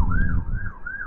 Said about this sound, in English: of course it's the siren